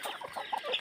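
A farm chicken in a rural province clucks in a quick run of five or six short, close clucks, with faint background ambience and no talking.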